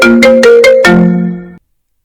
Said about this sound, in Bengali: তখন আমাকে ফোন করে।